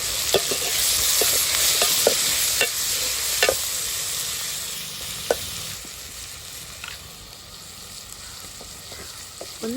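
Tomatoes fry and sizzle in a pan with curry leaves, a steady hiss punctuated by repeated scraping clicks of a spoon stirring, close and fairly loud with no voices.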